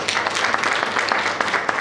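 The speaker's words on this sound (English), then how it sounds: "Let's clap our hands for Jesus." Church congregation clapping their hands during a worship service, a dense, steady wash of applause running throughout the short stretch, fairly loud and close.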